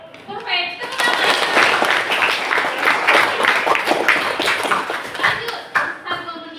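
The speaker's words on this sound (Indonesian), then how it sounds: "Tepuk tangan." A school class of children applauds together in a classroom, a dense, steady burst of clapping lasting several seconds, fading slightly near the end with a few scattered claps.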